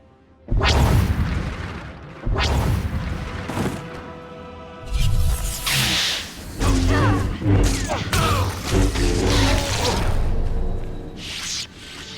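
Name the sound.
Deathmark laser being destroyed, SWTOR video game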